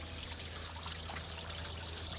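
Water trickles and dribbles steadily from the underside of a compact track loader, a close, continuous splashing stream with no pauses or voices.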